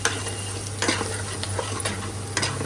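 Masala cooks in a pan with a close, steady sizzle under a constant low hum, broken by several sharp stirring scrapes at irregular intervals, with no voices.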